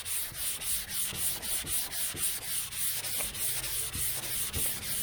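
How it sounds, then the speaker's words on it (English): Steady rhythmic block sanding scrapes back and forth over primer on a 1972 Chevy Nova body, close and even, with regular strokes and no talking. "you just keep blocking it out till all that black is gone"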